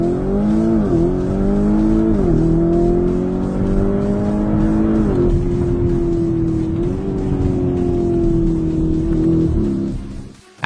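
A Lamborghini Urus S with its 4.0-liter twin-turbocharged V8 and 8-speed automatic drives hard, the engine droning loud and steady as it climbs through several gear changes, with brief dips at each shift before a sudden cutoff at the end.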